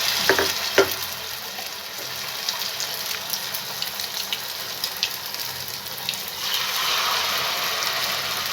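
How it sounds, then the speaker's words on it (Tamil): Batter-dipped potato and flour snacks deep fry in hot oil, giving a soft, steady bubbling hiss with faint scattered crackles. The sizzle swells a little toward the end. No talking. "இந்த மாதிரி முக்கிட்டு எடுத்து பொரிச்சுக்கலாம்."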